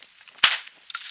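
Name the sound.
shotgun shot while dove hunting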